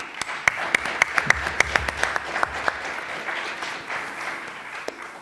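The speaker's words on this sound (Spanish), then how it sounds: "les rendimos un gran aplauso" An audience at a youth leadership panel breaks into applause for the guests, with a dense wash of clapping and several sharp, distinct claps standing out before it thins and fades.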